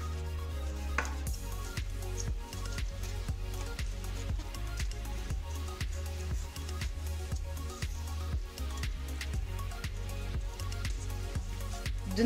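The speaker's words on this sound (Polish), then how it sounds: "Ze sparzonej kapusty odcinam wszystkie twarde części." A knife trims the hard parts off blanched cabbage, making a quiet, regular series of sharp cuts against a board over a constant low hum.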